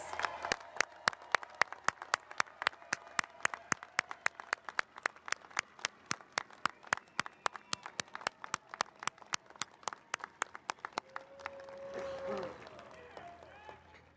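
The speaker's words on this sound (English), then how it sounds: "How about a huge round of applause for all of our graduates?" At an engineering school commencement ceremony, the crowd claps for the graduates in faint, evenly spaced claps with a steady rhythm. The claps sound distant and thin out toward the end as other murmuring rises.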